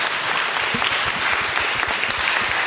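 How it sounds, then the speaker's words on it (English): Audience applause for the panelists at a venture capital and dealmakers forum panel, a dense, steady wash of many hands clapping at once, loud and sustained throughout with no talk. "let's give our panelists a round of applause"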